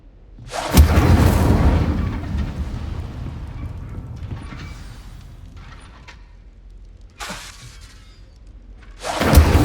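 Incendio fire spells blasting at targets in Hogwarts Legacy, three loud bursts with shattering crackle, the first followed by a long rumbling fade, the others short and sharp near the end.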